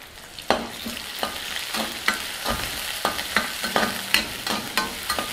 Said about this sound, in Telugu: ఉల్లిపాయ ముక్కల్ని బాగా వేగనిద్దాం.